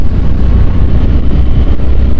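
Harley-Davidson Sportster S motorcycle on a test ride, its engine a loud, steady low rumble blended with heavy wind buffeting at riding speed, no talk over it.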